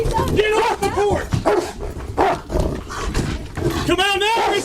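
A police dog at a house during an arrest barks in loud, repeated bursts close by, overlapping with shouting voices and tense talk.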